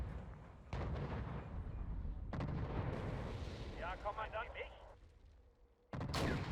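Gunfire and explosions from the wartime strategy video game Wargame: European Escalation, with repeated loud booming blasts and crackling bursts against a steady battle din.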